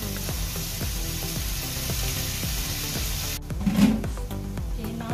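Cauliflower sizzles and crackles steadily in a pan with a soft rhythmic stirring pattern, then a lid clanks down and the frying sound drops to a muffled hiss beneath it.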